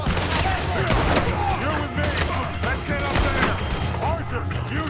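Gunfire in Red Dead Redemption 2 during a heist: dense, rapid overlapping shots and booms fill the whole stretch, loud and continuous, with voices and other game sounds mixed underneath.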